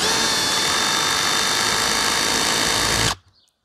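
A Parkside PBSPA 12 C3 cordless drill-driver in first gear with the clutch on its lowest setting drives a screw, whirring loud and steady for about three seconds before stopping abruptly.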